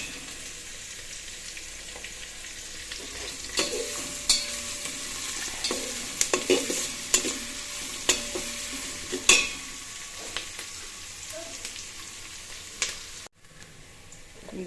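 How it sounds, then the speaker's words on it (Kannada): Onions fry in a pan while being stirred, a continuous close sizzle broken by repeated scraping and knocking strokes of a spoon against the pan, loudest in the middle stretch, with no talking. "ಚೆನ್ನಾಗಿ ಫ್ರೈ ಮಾಡ್ಕೋಬೇಕು ಈರುಳ್ಳಿ ಕೆಂಪುಗೆ."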